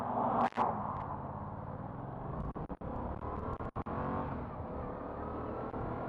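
Engine of a 2016 Yamaha FZ-07 motorcycle droning steadily while riding, with brief dips as gears are shifted, heard close and loud throughout with wind rush.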